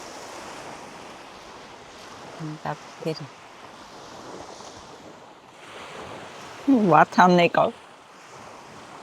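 Sea waves wash in a continuous, breezy rush, with wind buffeting the microphone, while people speak briefly over the surf.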